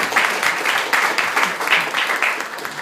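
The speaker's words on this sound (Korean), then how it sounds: "박수 한번 보내주시기 바랍니다" Applause from a gathered audience at a political talk event, a steady wash of many hands clapping close by for about three seconds with no speech over it.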